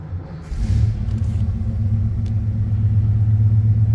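A 1950 Lincoln Sport Sedan engine catches on a cold start after half a second, settling into a loud, steady, low idle rumble close by.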